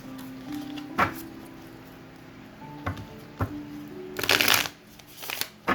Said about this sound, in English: let me just give this a good shuffle